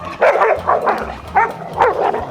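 Dogs meeting for the first time bark and yip at close range in several sharp bursts, loud and insistent, with whimpering between barks.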